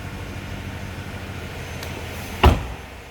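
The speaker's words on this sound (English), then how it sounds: "If you heard that, that was the air ride." A 1995 Cadillac Fleetwood Brougham's air ride suspension levels itself with a soft whoosh of air and a brief low thump near the end, close by over a quiet hum.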